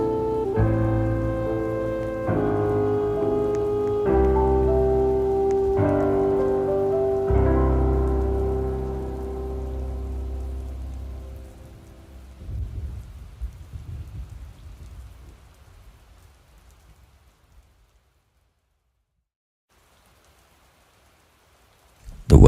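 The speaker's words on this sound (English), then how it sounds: "It's been raining for the past, 4 hours." Heavy rain and rumbling thunder fill a Roblox video game, a dense steady downpour with low rolling booms that gradually fades almost to silence before a sudden loud burst at the very end.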